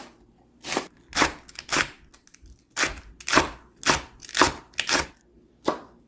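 Squash and leeks being cut into large chunks with a knife on a cutting board for Korean cheonggukjang stew, about a dozen crisp, sharp chops in an uneven rhythm, close and alone with no talk.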